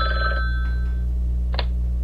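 Telephone ringing for an incoming call, a short electronic ring tone followed by a brief second chirp, over a steady low hum.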